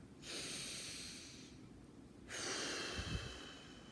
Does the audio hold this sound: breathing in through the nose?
yes